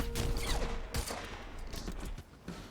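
Gunfire in the video game Quantum Break, a dense stream of sharp shots and mechanical clatter running throughout, loud and close, with a brief dip near the end.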